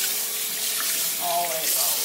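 Tap water runs steadily into a sink while raw meat for barbecue ribs or chicken is rinsed under it, a continuous hiss with slight splashing changes.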